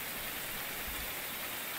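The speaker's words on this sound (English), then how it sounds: "will this rain ever end?" Steady rain falls in the survival game Card Survival Tropical Island, a soft, even hiss of drops on surfaces that carries on unbroken and fairly quiet, with no voices.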